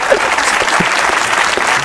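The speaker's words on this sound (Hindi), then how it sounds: "एक बार कायदे आज़म के लिए तालियां हो जाए।" A studio audience at a comedy talk show bursts into loud, dense applause for Quaid-e-Azam, a continuous wash of clapping that fills the whole moment close and full.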